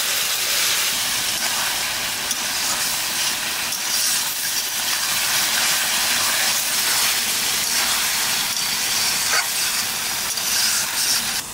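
Bottle gourd fries in a pan with a loud, continuous hiss of sizzling oil that holds steady throughout, with a few faint clicks and no voices.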